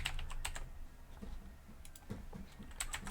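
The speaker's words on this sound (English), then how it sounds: "I type in an email address." Computer keyboard typing while an email address is entered into a web form: a few sharp key taps in scattered clusters over a steady low background hum, no speech.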